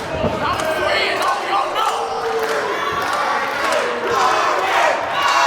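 Pro wrestling crowd roaring and chanting in support of wrestler RJ, a dense, steady wall of cheering voices that swells near the end, with no clear commentary over it.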